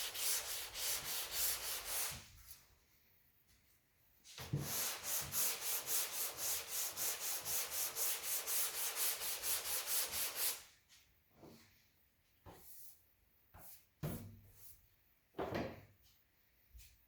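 Sandpaper of 120 grit rubbed over primer in quick back-and-forth strokes, two sustained bursts of close rhythmic scraping followed by scattered single swipes and pauses.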